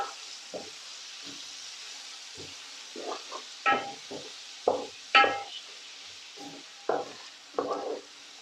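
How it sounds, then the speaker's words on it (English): Onions stirred into ginger, garlic and cumin frying in a pan give a quiet sizzle under bursts of stirring and scraping that grow more frequent and louder toward the end, close with no talk. "Mix the onions in."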